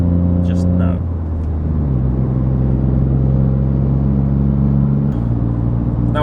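A rebuilt Ford Fiesta MK7 with a 1.0L EcoBoost three-cylinder engine drones steadily while driving, its loud, constant hum stepping down and up in pitch a couple of times as it changes gear.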